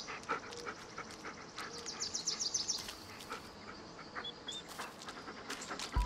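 Dog panting in the Blair Witch 2019 game, quick rhythmic breaths close up, accompanied by light whimpers and ambient forest sounds.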